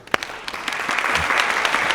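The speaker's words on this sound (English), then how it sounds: "Applause for Melissa." Audience applause breaks out for a yoga demonstrator after a hot yoga warrior two and triangle sequence, a dense, steady wash of clapping that swells and holds, fairly close and loud, with no talking over it.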